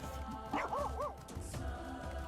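A battle dog companion in the online role-playing game Final Fantasy XIV barks and yips twice in quick succession over a steady bed of game music and ambience.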